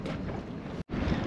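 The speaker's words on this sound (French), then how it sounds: "il y a un peu de vent, on va essayer de parler proprement" Wind buffets the microphone aboard a catamaran at anchor, a loud broadband rushing that is steady for most of the moment, breaks off for an instant, then returns.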